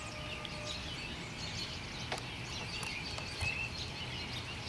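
Birds sing and chirp faintly in a tree, scattered short calls over a low, steady background rumble, with no voices.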